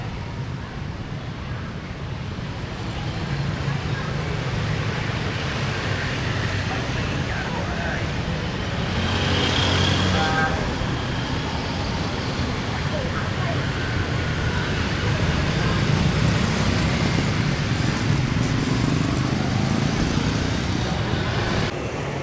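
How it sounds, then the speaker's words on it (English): Heavy road traffic in downtown Saigon, a dense, unbroken roar of passing motor vehicles close by, with wind buffeting the microphone throughout. "the traffic here is really, really heavy"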